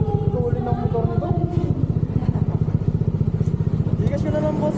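A motorcycle engine runs steadily close by, its rapid low pulsing continuous throughout while people chatter over it.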